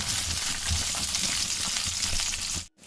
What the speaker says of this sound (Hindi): इन तमाम चीज़ों को उसे 3 मिनट के लिए फ्राई कर लूँगा।